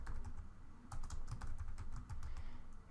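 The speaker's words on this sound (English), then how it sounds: "So I'll type in my name" Typing on a computer keyboard, a close, quiet patter of irregular key clicks in short bursts with no talking.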